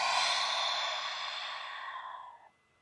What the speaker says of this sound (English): And then an open mouth exhale to let it all go.